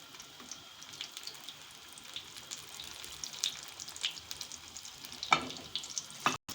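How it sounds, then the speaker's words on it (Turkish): Pişi dough sizzles and crackles in hot oil, a steady bubbling hiss with scattered sharper pops, fairly quiet and close, no voices. "pişi pişilerimizi koyuyoruz yağın içine kızartmaya"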